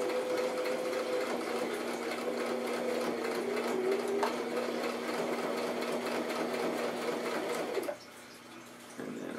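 Sewing machine running a few quick back stitches on a handmade handbag, a steady close whirring buzz that stops abruptly near the end, alone with no talk.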